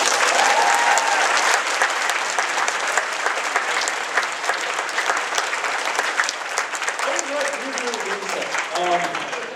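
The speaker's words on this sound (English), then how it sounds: "Once more, round of applause." Loud crowd applause at a convention panel, dense clapping and cheering filling the room for nearly ten seconds, with voices talking and calling out over it as it fades toward the end.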